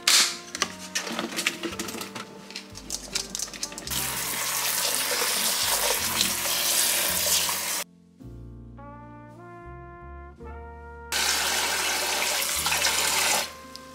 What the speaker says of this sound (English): I'm just gonna quickly rinse off these strawberries